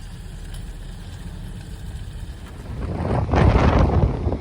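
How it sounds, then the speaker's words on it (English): Strong wind buffeting the microphone on the coast at Ventnor, Isle of Wight, as a storm arrives, a low steady roar that swells into a heavier gust toward the end. "the wind has swung right around. I'm now facing into the wind, so it's basically a southeasterly"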